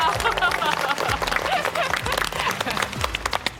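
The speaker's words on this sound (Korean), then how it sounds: "박수로 환영합니다." A studio audience on a Korean variety show claps in warm applause to welcome a panel of experts, with a host's voice over the dense clapping.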